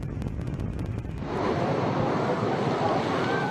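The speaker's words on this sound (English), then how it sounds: "Pounding rain, and the moment the pressure became too much near Shinjuku Station." Pounding typhoon-driven rain falls near Shinjuku Station in Tokyo. A quick rhythmic pattering gives way to a dense, continuous roar of downpour that fills the scene loudly.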